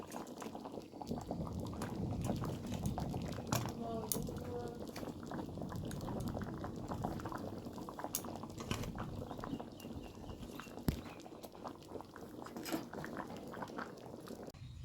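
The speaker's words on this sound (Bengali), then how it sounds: "এগুলো মাছ দিয়ে এবার নামিয়ে দিচ্ছি ফুটে উঠে" A pot of hilsa fish curry with taro bubbles steadily in a continuous, dense simmer, a low gurgling hiss broken by occasional soft pops and clicks, with no talking.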